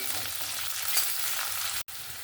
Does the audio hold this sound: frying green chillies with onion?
yes